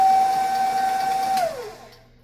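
An electric stand mixer whirs with a steady, high motor whine at speed 4, beating white cake batter, then winds down and falls silent as the motor stops.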